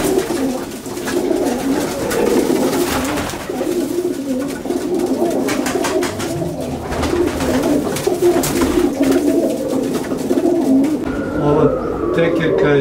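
Racing pigeons from a competition loft cooing continuously, several birds close by with overlapping throaty coos and some flapping or shuffling in the background.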